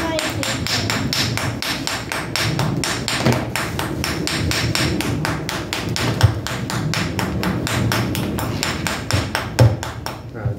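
A hammer knocks on rock during a gemstone dig, striking in a rapid, steady stream of sharp, close metallic taps with a few heavier thuds mixed in, over a low background hum.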